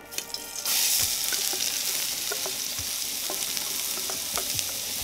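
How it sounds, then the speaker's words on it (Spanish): Chopped onion and garlic fry in oil in a pan, a steady broadband sizzle that swells in after a quiet first moment and holds loud and close, with occasional faint clicks of stirring. "primero se fríe la cebolla y después se fríe el ajo"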